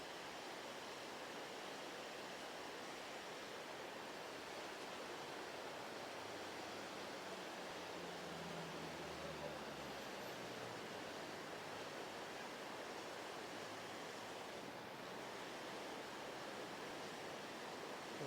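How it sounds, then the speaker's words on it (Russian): A small mountain river near Krasnaya Polyana in Sochi rushes steadily, giving a continuous, even wash of flowing water with no voices. "Речушка течет и течет. Круглый год течет."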